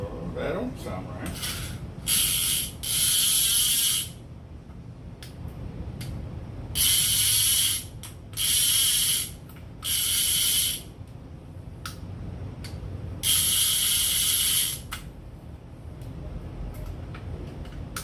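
Several bursts of rapid, high-pitched clicking from a fishing reel's ratchet, each lasting a second or two, separated by quieter mechanical handling noise.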